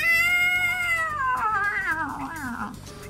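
A cat gives one long, loud, drawn-out meow that bends downward in pitch into a wavering caterwaul, close by with no talk over it.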